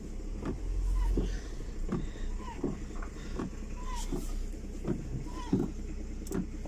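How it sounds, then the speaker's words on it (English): A 1998 Peugeot Partner van's engine idles steadily with a low continuous rumble, broken by regular soft knocks and faint squeaks roughly every second, heard up close and alone. "Oh, it sounds even better now that it's sat idling."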